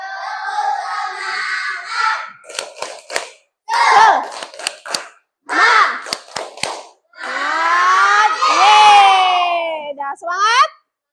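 A class of schoolchildren performs a rhythmic clapping chant in a classroom, with bursts of sharp, tightly grouped claps alternating with loud shouted group chanting.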